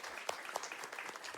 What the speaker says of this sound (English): Let's give a round of applause to our tech crew